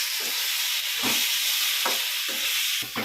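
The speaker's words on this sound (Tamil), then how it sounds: "இந்த வெங்காயம் வதங்குது" Onions with ginger-garlic paste sizzle steadily in a hot pan for crab thokku, the close frying hiss broken by several scraping stirs of a spatula, with no talking.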